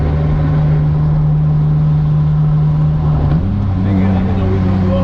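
A car engine holds a steady loud drone close by while drifting on a ramp, then shifts pitch upward partway through as it revs, with people talking over it.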